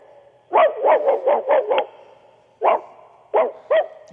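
A man on a phone-in radio show imitates a big mutt barking: a rapid run of six loud woofs, a pause, then three more spaced barks, close and alone.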